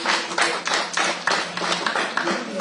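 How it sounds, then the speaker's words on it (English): Audience clapping for the Right Honourable Speaker at a party gathering, a dense, steady round of applause with overlapping hand claps filling the whole stretch at moderate loudness. "May we give a better hand clap to the Right Honourable Speaker."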